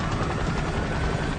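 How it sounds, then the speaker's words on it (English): Helicopter at a plane crash site on the Potomac River: a dense, steady rotor and engine roar, continuous and fairly loud throughout, with no voices. "We could hear a helicopter faintly in the distance."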